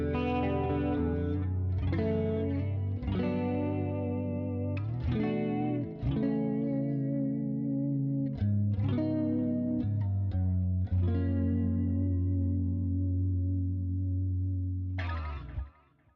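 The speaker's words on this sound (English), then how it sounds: "And all that is reverb and delay and a little bit of chorus." Electric guitar played through a multi-effects unit with reverb, delay and a little chorus: a sequence of chords and notes, each ringing out into a wide, shimmering wash of echoes, with a final strum near the end before it cuts off.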